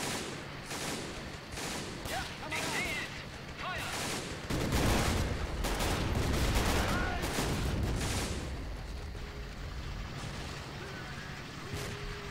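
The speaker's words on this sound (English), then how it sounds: "It's just snipers and rifles." Sniper and rifle fire in the video game Men of War, repeated sharp shots and heavier booming volleys over a battle din, with a voice speaking intermittently.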